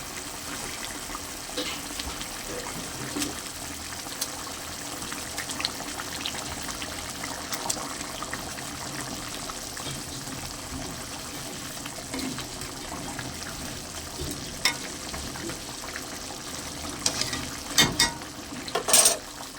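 Pieces of Bhola fish go into boiling, bubbling oil-chili gravy, giving a continuous simmering sizzle and gentle stirring, with a few sharper splashes and clatters near the end.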